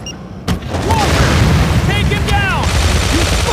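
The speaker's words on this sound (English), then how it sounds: "Nuclear bombardment. On my signal, do it." A deep boom from a nuclear bombardment in the Modern Combat 3 shooter game erupts after a short lull and rolls on as a loud, sustained rumble, with scattered whistling tones and a voice speaking over it.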